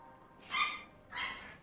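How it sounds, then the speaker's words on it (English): Two faint, separate dog barks in the distant background, each about a quarter second long, spaced apart over low room hum. "Sorry about the dogs going mad in the background"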